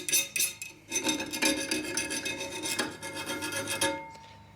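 A hand file rasps across a hardened 80CRV2 steel knife blade in a series of quick, close, gritty scraping strokes, each a short bright burst, ending in quiet.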